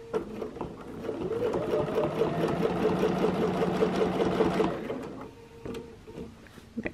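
A sewing machine stitches small quilting circles on a quilt in one steady run of rapid needle strokes lasting a few seconds, followed by light handling clicks and taps.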